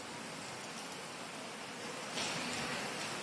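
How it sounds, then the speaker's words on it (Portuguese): Steady light rain falls continuously during a storm alert, a soft even hiss of drops with no pauses, growing slightly denser and brighter toward the end. "Então, Pierre, a chuva ela é constante, mas não é uma chuva forte."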